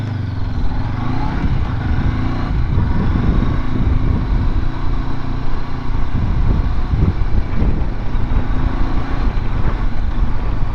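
A 2019 Honda CB500X cruises through town in fifth gear at about 53 km/h, a steady close engine hum with wind rush, running continuously without pauses.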